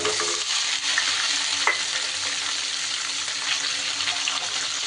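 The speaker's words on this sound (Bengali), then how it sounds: "হিংটা দিয়ে এইবার আমি কেটে রাখা পনিরগুলোকে দিয়ে দেব।" Cut paneer frying in hot oil seasoned with a pinch of asafoetida, a steady close sizzle with light stirring scrapes throughout and no talking.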